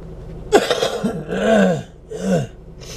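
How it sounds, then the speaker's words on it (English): A person with a lingering cough clears their throat and coughs in several harsh bursts, close and loud, with short pauses between, indoors on a rainy day. "still battling this cough."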